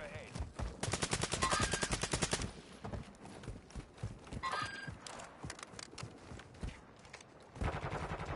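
Rapid automatic gunfire in the video game Warzone, with a loud sustained burst first and then more bursts of shooting, while players talk over the action.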